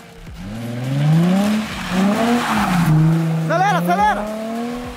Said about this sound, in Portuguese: Primeira vez que o Renan aqui fez o zerinho